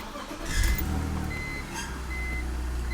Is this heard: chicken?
no